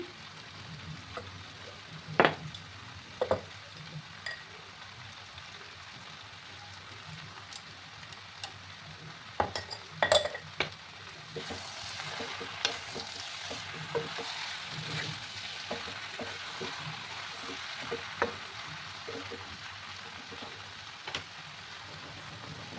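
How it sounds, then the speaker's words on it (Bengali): Jackfruit and shrimp curry is sautéed and stirred in a pan, giving a soft, fairly faint sizzle with scattered ticks and crackles and occasional louder pops, without speech. "আরো কিছুক্ষণ আমি এটাকে কষিয়ে নেব।"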